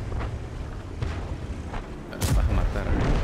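Tank cannon fire in World of Tanks, a heavy booming blast that erupts partway through over continuous battle rumble and engine noise, with a player talking in Spanish.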